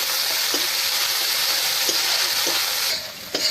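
Ginger garlic paste fries loudly in a pan, a dense continuous sizzle with soft periodic scrapes of stirring that briefly eases near the end.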